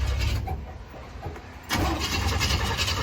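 An old truck's engine cranks over for a stretch, then catches and fires into a steady running rumble, close and fairly loud.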